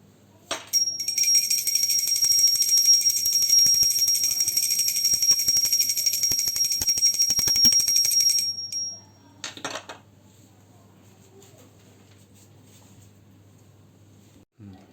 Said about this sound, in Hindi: अब मैं घंटी बजाकर लगा दूँगी भोग।